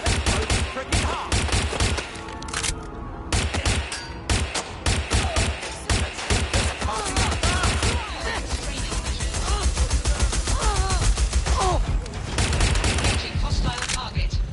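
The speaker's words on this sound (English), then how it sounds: "I have the shotgun." Repeated shotgun blasts and other gunfire in the video game Watch Dogs Legion, a loud, steady barrage of sharp reports over busy game sound, with a voice speaking at times.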